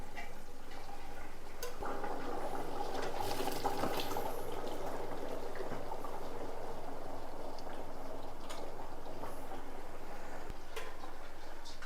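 Cooked rice going into a pot of boiling water for fish biryani, with steady close bubbling and sloshing liquid that runs unbroken the whole time.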